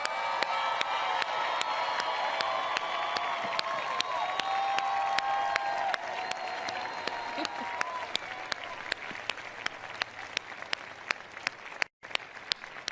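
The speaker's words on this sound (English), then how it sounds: "Let's give her and all of the good people in our lives a big round of applause." A seated audience gives a round of applause, dense steady clapping for about twelve seconds with a few whoops and cheers early on, then thinning out into scattered individual claps near the end.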